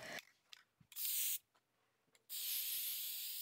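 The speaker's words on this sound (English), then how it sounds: "I sprayed it with a satin sealer first" Two short bursts of aerosol satin sealer spray hiss loudly up close, separated by a quiet pause with faint handling noise.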